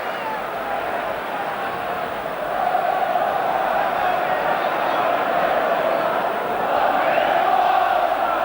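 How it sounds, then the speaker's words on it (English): Tottenham Hotspur fans in a stadium crowd at a 1991/92 Division One football match against Manchester United produce a broad, continuous roar of applause and crowd noise that swells partway through, with a commentator speaking over it. "Spurs fans sighing with relief and now applauding that excellent save by Ian Walker"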